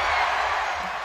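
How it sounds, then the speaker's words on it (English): A crowd at a beach volleyball gold medal match in Torquay cheers and whoops, a broad, loud roar that fades slightly near the end. "The crowd is absolutely loving it."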